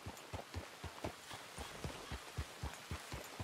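Faint, even hoofbeats of a horse clip-clopping in the Red Dead Redemption video game, a regular trotting rhythm of soft thuds repeating several times per second with no voices over them.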